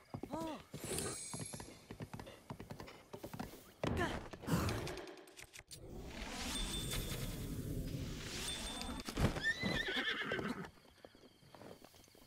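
A horse whinnies loudly a few times among hoof clip-clops, thuds and snorts, with a brief breathy sigh, in the video game Zelda: Breath of the Wild.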